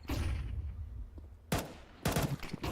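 Deagle and MAC-10 gunfire in a Counter-Strike 2 match: bursts of rapid shots in clusters with brief pauses between, loud and close.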